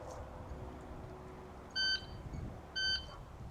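An electronic shot timer gives two short, sharp beeps about a second apart during a pistol drill on a range, clear and close over low background noise with no talk.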